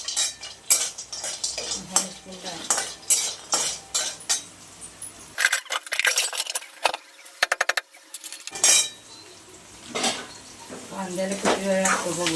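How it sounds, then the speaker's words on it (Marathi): Chopped onions frying in a pan while a metal spoon scrapes and clinks against it repeatedly, close and busy, with a steady sizzle underneath and a short quieter stretch of rapid clicking. "कांदा भाजून होतो. कांदा कच्चा देऊन पण चालत नाही. पूर्ण लाल होईपर्यंत भाजायचं."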